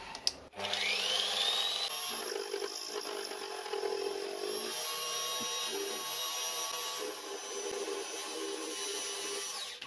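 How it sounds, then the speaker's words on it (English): A milling machine with a 12mm cutter faces off the end of a metal workpiece, giving a steady, loud machining whine with a high tonal ring that persists throughout after the spindle spins up. "I've still got this 12mm cutter in here, so I think I'll just face this one end off first"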